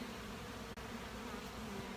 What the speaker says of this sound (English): There's like all kinds of bees in the air. They're all flying around